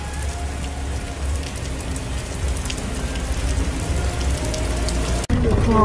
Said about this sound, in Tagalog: Umuulan dyan.